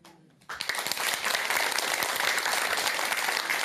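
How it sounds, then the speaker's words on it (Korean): Loud, dense applause bursts in after a brief quiet moment and keeps going steadily, a whole audience clapping together at a Buddhist temple talk. "박수 쳐주세요."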